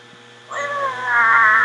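A person imitating a cat, voicing one drawn-out, rising meow that starts abruptly after a moment of quiet and holds to the end.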